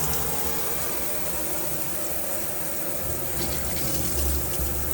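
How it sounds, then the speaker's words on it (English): Water runs steadily from the hot side of a tap in an Adria Coral 670 XL caravan, drawn through the boiler first, a continuous broad gushing rush with a low pump-like rumble underneath, growing slightly louder toward the end. "now when I'm drawing it through on the hot side of the tap, the water is going through the boiler first before it gets to the tap"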